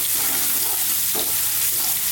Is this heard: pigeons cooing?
no